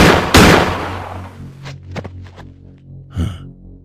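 A single loud, close gunshot rings out in a dramatic film scene, followed by quieter breaths, small thuds and a muffled vocal sound as the tension fades.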